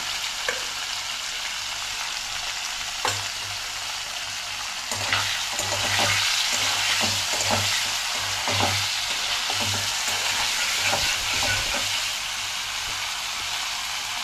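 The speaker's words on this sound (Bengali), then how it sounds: "হালকা লাল করে ভাজবো।" Paneer with salt and turmeric fries lightly in a pan with a constant close sizzle. Stirring scrapes and knocks come repeatedly, and the sizzle grows louder partway through.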